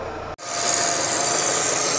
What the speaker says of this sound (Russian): Вот слышно, как через него сосет воздух.